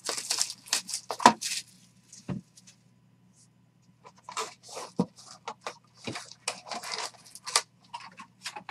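Crinkly plastic wrapper on a basketball trading card box being torn and peeled open up close, in bursts of sharp rustles and crackles separated by short pauses.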